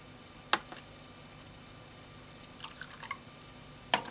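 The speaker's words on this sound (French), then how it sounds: "On va remettre l'eau dans le refroidisseur." Hot water poured back from teacups into a cooling bowl while preparing Japanese gyokuro green tea, heard as a few short splashy drips and a brief trickle, quiet and close with no talking.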